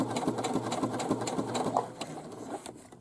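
A sewing machine runs slowly along the pocket hem of a drawstring bag, a close, moderate stream of evenly spaced needle thumps and mechanical ticking.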